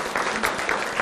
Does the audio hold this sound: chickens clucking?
no